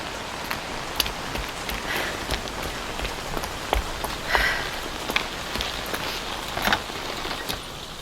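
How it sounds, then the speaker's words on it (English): Steady rain falls outdoors in the Evidence 111 video game, a continuous hiss of drops striking surfaces with scattered sharper patters, fairly close and even in level, with no voices. "The rain's getting stronger."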